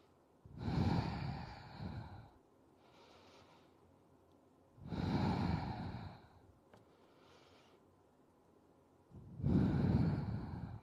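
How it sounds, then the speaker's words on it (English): Slow, deep breaths during a yoga floor pose, three long audible inhale-exhale cycles spaced a few seconds apart, close and soft in a quiet room. "Deep breaths."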